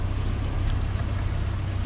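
Steady low rumble of a minibus engine driving along a road in Vietnam, moderately loud and continuous throughout, with no voices.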